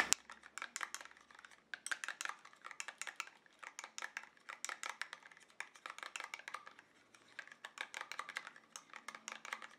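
A homemade BB cream mixture with sun protection being stirred in a small container, giving quick, rapid clicking and tapping scrapes in uneven bursts, close up and fairly faint.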